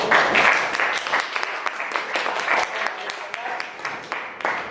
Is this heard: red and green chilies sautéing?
no